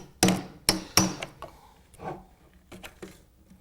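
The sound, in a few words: chisel tapped to free window glazing piece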